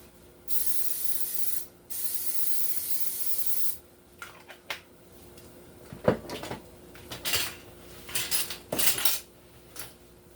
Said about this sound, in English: Spray the waffle iron.